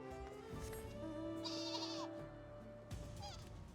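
Sheep in the video game Final Fantasy XIV bleat in drawn-out, wavering calls over a steady bed of game music and ambience, with one bleat in the middle and another near the end.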